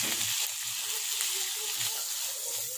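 Egg muffin filling ingredients cook in a tablespoon of hot butter, giving a brief, soft, steady sizzle with a few faint stirring sounds and no speech.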